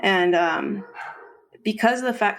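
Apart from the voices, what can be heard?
dogs barking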